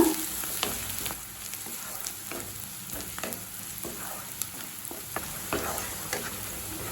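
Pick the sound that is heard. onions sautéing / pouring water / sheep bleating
onions sautéing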